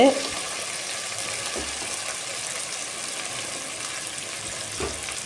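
Potatoes and softened tomato sizzling steadily in a pan as a spoon stirs them, a close, continuous fry with occasional scrapes against the pan.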